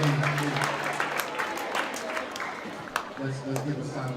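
An audience at an elementary school's African American History Month program applauds steadily for about four seconds, the clapping dense and mid-distance, with a voice talking over it near the start and end.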